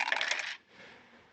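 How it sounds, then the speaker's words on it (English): A big handful of dice rolled together at a Dungeons & Dragons table, a dense bright clatter lasting about half a second, then a softer trailing rattle as they settle. "That sounds like a lot of dice."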